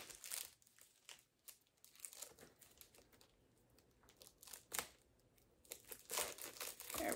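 Plastic packaging from a Dollarama haul crinkles and tears close up in irregular bursts as it is pulled open by hand, with quieter pauses between rustles.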